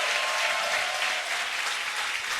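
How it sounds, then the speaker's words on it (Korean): A church congregation at a New Year's Eve worship service applauds in a steady, dense wash of clapping that stays loud and even throughout, with no voices standing out. "우리 주님께 영광의 박수 올려드리겠습니다."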